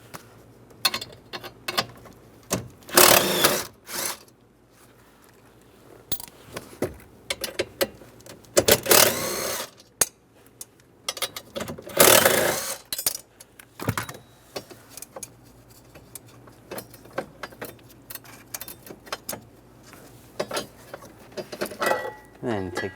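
A 10mm socket spins four nuts off an antenna base bracket on a 2007-2013 Chevrolet Silverado, giving bursts of ratcheting clicks and metallic rattles separated by quiet gaps, all close up.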